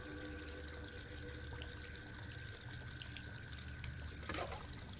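Water pours in the Mortimer Beckett hidden-object game, a short splashing trickle that swells near the end over a steady bed of soft, sustained game music.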